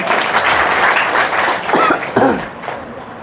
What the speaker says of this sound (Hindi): वेरी गुड, ताली बजाओ इस उद्देश्य में